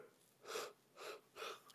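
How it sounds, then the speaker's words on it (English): Three drawn-out breathy exhalations, each a broad soft whoosh separated by brief pauses, close and fairly quiet with no talking. "I can't stop yawning."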